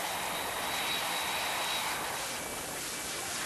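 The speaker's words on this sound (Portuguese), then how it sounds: "outro avião repleto de passageiros" A passenger airplane full of travellers gives a constant, even broadband engine roar that holds steady throughout, with no voices over it.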